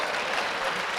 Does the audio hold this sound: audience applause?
yes